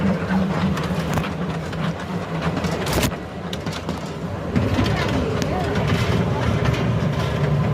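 A train bound from Lumbini to Delhi rumbles along steadily with a continuous rolling clatter and occasional sharp knocks, people talking over the running noise.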